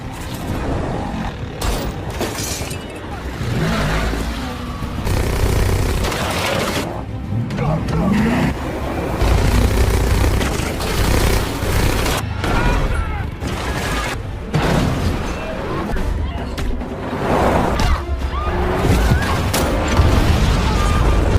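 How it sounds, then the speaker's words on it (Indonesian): Gunfire and booms ring out during a car chase in the 2017 action film Wolf Warrior 2, over roaring engines and rattling mechanisms. A narrator talks over the loud, dense action throughout. "Anak buah Big Daddy terus mengejar dan menembaki mereka."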